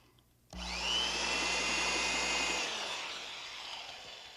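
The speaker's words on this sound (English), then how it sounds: "An electric drill." An electric drill bores into wood, starting abruptly and running at a steady high whine for about two seconds, then slowing as it spins down; close and alone with no talk.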